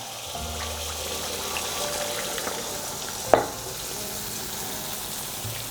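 Khanom fak bua batter, tinted with butterfly pea flowers, is dropped into hot oil and fries with a steady broad sizzle, broken by one sharp clink partway through.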